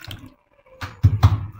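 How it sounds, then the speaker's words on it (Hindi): Water poured in a few short splashes into a small dish meant for a sick Java finch in a hospital cage, close and quiet, with two brief louder gurgles near the end. "ये देखें थोड़ा सा पानी डाला है"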